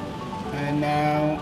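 Water from a touch-free car wash pattering over a Tesla Model 3 like heavy rain, heard from inside the car as a short, close rush of spray with faint tonal hums beneath.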